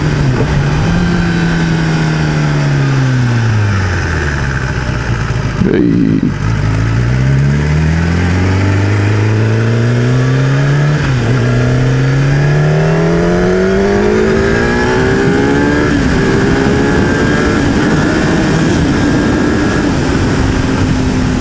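A car engine revs hard and close, its pitch climbing, then dropping sharply at each gear change before rising again through several shifts, loud and steady with no voices.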